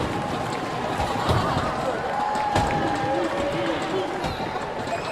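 A women's wrestling crowd at a WOW event cheers and roars for Gigi Gianni, a steady mid-distance din with a commentator talking over it.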